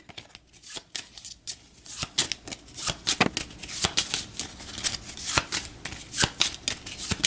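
A deck of Cartographers board game cards is shuffled and cut at close range. Crisp riffling bursts and sharp snaps repeat steadily for several seconds with no talking.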